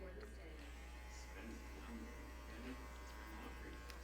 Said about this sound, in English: Start open, then slowly work your clipper to close.